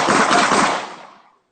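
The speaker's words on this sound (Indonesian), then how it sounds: "maaf itu suara tembakan" A burst of gunfire rings out loud and close, a dense rapid volley lasting about a second before fading away, with no talking over it.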